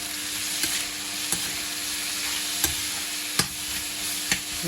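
Steady sizzle of homemade tofu frying in a pan with cumin, coriander powder, turmeric, salt and water, a spoon scraping and stirring every second or so, close by and without voices.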